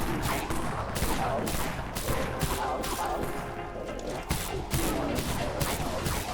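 Rapid gunfire from the SR-10 Disruptor pistol in the Dead Frontier video game, a loud dense fusillade of shots running continuously with brief gaps, with no speech over it.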